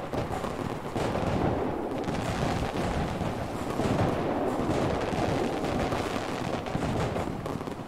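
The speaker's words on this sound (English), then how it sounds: "That's some nice fireworks though." A continuous barrage of crackling, popping blasts from fireworks in the game Fireworks Simulator, dense and rumbling, with no break.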